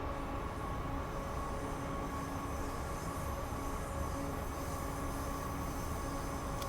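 A train runs on the line in Train Sim World 5, a steady rolling rumble with faint tonal whine from the traction and wheels, constant and unbroken, with no speech.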